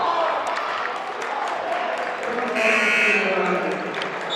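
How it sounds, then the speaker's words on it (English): A buzzer sounds over a noisy crowd at a men's college basketball game, Emory vs Rochester, a steady electronic tone rising out of the murmur and cheering partway through. "we've got the buzzer sounding"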